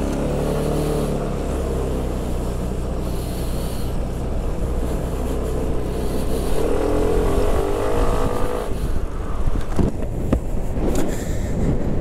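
Second-generation Blur scooter under 250cc, its engine starting and then running at a steady idle, a close, loud continuous drone with a few sharper bursts near the end, no talk.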